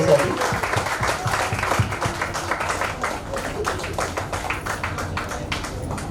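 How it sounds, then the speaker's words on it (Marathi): Audience applause for hosts at a 50th birthday celebration, a dense burst of clapping that fades gradually over several seconds, with voices faintly mixed in. "एकदा जोरदार टाळ्या त्यांच्यासाठी."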